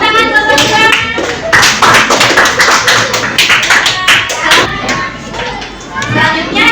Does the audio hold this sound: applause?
yes